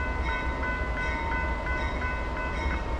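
A freight train rolls steadily past a road crossing at Canal Road, giving a continuous loud rumble with faint regular clicks. A train detector is on the line nearby.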